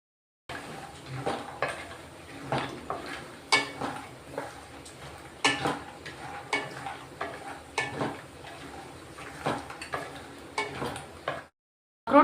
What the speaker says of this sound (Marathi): घेतोय आपण आता अक्रोड भाजून घेऊ